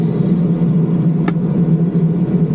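The turboprop engine of a Beechcraft King Air 260 runs steadily after start, a loud continuous drone with a strong low hum and broadband roar heard up close, with no speech.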